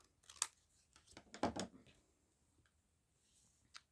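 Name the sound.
scissors trimming collage paper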